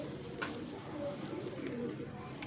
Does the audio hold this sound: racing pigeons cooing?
yes